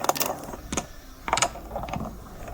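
The bolts of a Borika Fasten stabilizer mount are tightened onto a TRX 440 kayak, giving a few short bursts of ratcheting mechanical clicks close by, separated by brief pauses.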